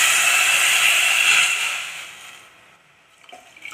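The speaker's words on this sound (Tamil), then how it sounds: "கொஞ்சம் மூழ்கிற அளவுக்கு தண்ணி விட்டுக்கலாம்" Water pours steadily from a vessel onto sugar in a pan for paneer jamun syrup, a bright splashing stream that tapers off after about two seconds, followed by a few faint clinks.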